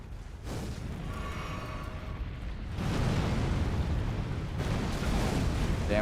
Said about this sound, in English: I jumped into the explosion.